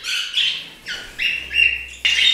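Budgerigars and finches in an indoor bird room, several close, bright chirps and warbling tweets in short overlapping bursts with brief pauses between.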